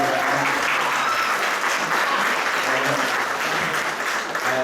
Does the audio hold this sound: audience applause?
yes